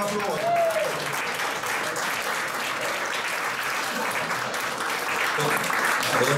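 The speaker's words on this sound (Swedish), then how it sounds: "Det kräver en applåd." A studio audience applauds, with steady, moderately distant clapping that keeps going for several seconds at an even level, and faint voices mixed in underneath.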